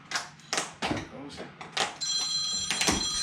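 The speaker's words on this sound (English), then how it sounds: "Oh, phone call." A telephone rings in a workshop during a windshield replacement on a red car, its bright, sustained electronic trill starting partway through and continuing, mixed with knocks, clatter and people talking.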